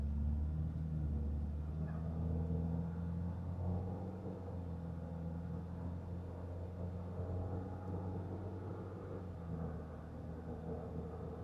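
A 2007 Saturn Sky Red-Line Turbo drives along with a steady low engine and road rumble and cabin hum, the air conditioning running, no voices over it.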